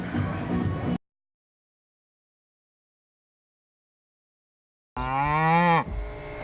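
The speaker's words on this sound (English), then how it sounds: "owner Tom Trantham has around 90 cows and milks them" A cow at a dairy creamery herd of about ninety lets out a loud, drawn-out moo close by, following a stretch of complete silence after an opening burst of noise.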